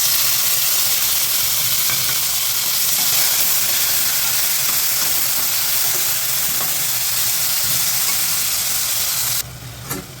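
Chopped tomatoes sauté in oil in a pan for pasta, giving a steady loud sizzle and hiss throughout that drops off abruptly just before the end.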